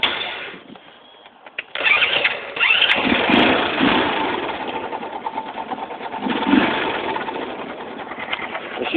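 A Skygo motorcycle of roughly 125 to 200 cc starts up: a brief cranking, then the engine catches and settles into a steady, buzzy idle, loud and close, with no talking.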